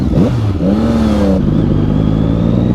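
A stock-exhaust Audi RS6 roars past close by, its loud engine note sweeping upward then settling into a steady drone, with no talking.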